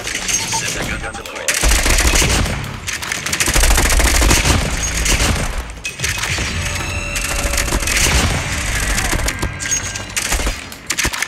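Automated sentry gun in a Call of Duty match firing long rapid bursts, loud sharp rattling volleys that stop and restart with brief gaps, mixed with game effects.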